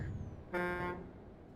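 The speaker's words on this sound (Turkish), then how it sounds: "Arkadan korna sesleri geliyor" A single short car horn honk sounds at mid distance, a steady blare lasting under half a second against faint background noise.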